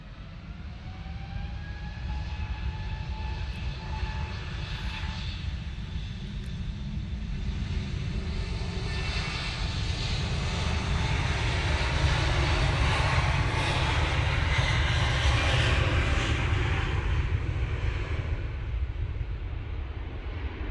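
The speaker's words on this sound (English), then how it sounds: "EK21 is on short final for 2-3 right. It is the Emirates A380" Emirates A380 on short final into Manchester Airport on a gusty day, a broad engine roar that builds steadily, with whining tones sliding downward, and peaks near the end.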